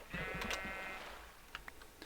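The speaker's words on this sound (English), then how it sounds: "Oh, and look at all the sheep." Several short sheep bleats from a Minecraft flock, a few overlapping cries early on followed by fainter, briefer bleats, with no talking.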